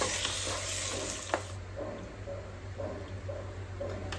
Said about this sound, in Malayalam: വെളുത്തുള്ളി, ഇഞ്ചി, പച്ചമുളക് അരച്ചത്, മസാല മൂക്കണ വരെ നന്നായിട്ട് ഇളക്കിക്കൊണ്ടിരിക്കുകയാണ്.